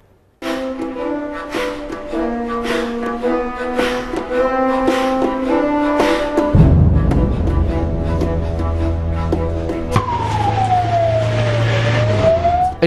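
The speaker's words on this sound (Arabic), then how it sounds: "سيارات إسعاف تهرع إلى مكان الفاجعة" Several emergency vehicle sirens wail in the street after a barrel bomb strike on the Qadi Askar district near Aleppo. Stacked rising and falling tones run continuously and loud, and a sweeping yelp joins near the end, with no talk.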